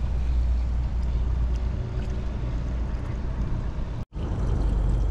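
Steady rushing, gurgling flow of water poured from a jug into a boat engine flush tank, close and continuous, with a brief break near the end.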